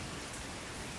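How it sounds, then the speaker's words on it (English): Heavy rain pours steadily outdoors, a dense, even hiss of drops hitting surfaces with no breaks, faint and continuous throughout. "Still pouring rain"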